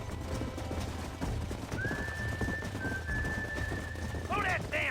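Horses gallop with rhythmic clip-clop hooves in the Western video game Red Dead Redemption, mixed under game music with a sustained whistle-like tone and a burst of neighing or whinnying near the end.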